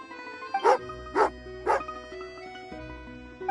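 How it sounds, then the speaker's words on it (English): A dog in the video game Genshin Impact gives three sharp, angry barks, evenly spaced and close, over a soft game-music background. "Oh, angry doggy."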